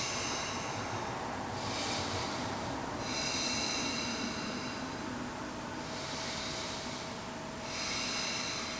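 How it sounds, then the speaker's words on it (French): Slow, deep breathing through the nose during yoga fish pose (Matsyasana), long airy inhales and exhales alternating in a steady rhythm, close and soft over a constant background hum, no talking. "Quelques respirations."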